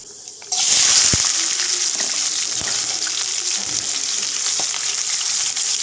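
Chopped onion and green chillies hitting hot oil with cumin in a kadai, an abrupt burst of loud, dense sizzling that holds steady and close, with a few faint clinks of a stirring spoon.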